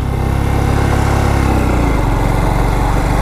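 A Honda motorcycle labours up a steep ghat road in Odisha, its engine droning loud and constant near the microphone with a low, chugging strain that never lets up.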